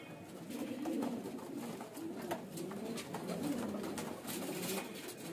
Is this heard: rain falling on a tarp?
no